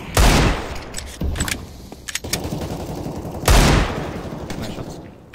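Gunshots in the video game CS:GO, including Desert Eagle pistol fire, sound as several sharp, loud, close cracks in quick bursts with gaps between them, alongside lighter clicks and in-game noise.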